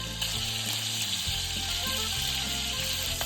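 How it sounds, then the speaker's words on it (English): Beef sears in hot bacon fat, a dense, continuous sizzle that stays close and steady throughout, with a low rumble underneath and no voices. "Next, we're going to start searing our beef in the bacon fat."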